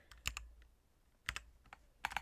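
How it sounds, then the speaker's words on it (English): Someone slowly pecks at a computer keyboard. Scattered, irregular clusters of light key clicks sound close and quiet, with pauses between the bursts and no voices. "I was pecking at the keyboard"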